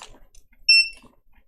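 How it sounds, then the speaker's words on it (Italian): A multimeter's continuity-test beep during a Game Boy Advance SP repair: one short, clear electronic tone, close and alone against near-silence, lasting about a quarter second. "Multimetro, il suono del multimetro."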